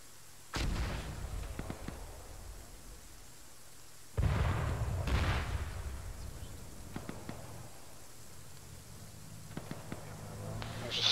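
Rocket fire and explosions in the Arma military video game: two heavy, booming blasts with long rumbling tails, spaced a few seconds apart, followed by sharper distant shots and pops over a steady background.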